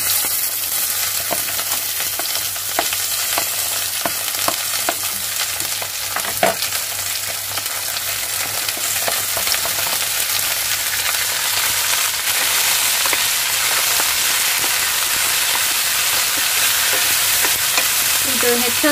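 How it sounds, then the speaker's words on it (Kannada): Ivy gourd stir-frying with onion in a pan, a loud steady sizzle with intermittent spatula scrapes and knocks throughout, close up and free of talk. "ಈಗ ನಾನು ತೊಂಡೆಕಾಯಿನ ಹಾಕ್ತಾ ಇದ್ದೀನಿ."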